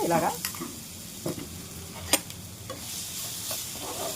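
Ginger, garlic and green chili paste sizzles in a pan as it is stirred, a soft continuous frying hiss broken by a few sharp scrapes of the spoon, with a brief word spoken at the start.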